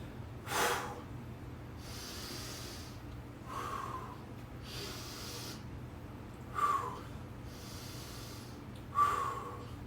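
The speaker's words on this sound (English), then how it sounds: "falling into old habits, in through nose, out through mouth breathing" A person breathes in sharply through the nose and out through the mouth, close to the mic, with about four slow, steady cycles of audible snorting inhales and softer hissing exhales, alone without talk.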